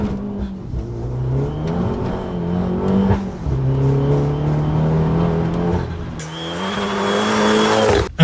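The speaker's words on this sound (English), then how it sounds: "I'm going to overlay a quick acceleration now so you can see exactly what we're referring to." A tuned Abarth 500 with an automated manual gearbox, built to about 300 horsepower, accelerates hard, the engine note climbing through the revs with gear changes in between, loud and close, ending in a burst of wind and road roar.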